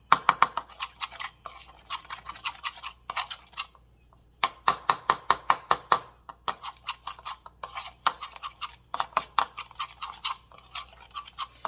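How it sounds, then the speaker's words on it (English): Softened butter being mixed with bouillon paste, rapid rhythmic scraping strokes of a utensil against a bowl in quick bursts, close and clear, with brief pauses between runs. "I'm just going to mix it up with my butter."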